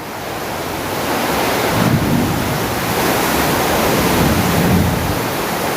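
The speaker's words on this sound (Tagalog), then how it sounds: "Lumakas ang ulan ngayon, oh." Loud, constant roar of heavy rain mixed with gusting wind buffeting the microphone, with no speech.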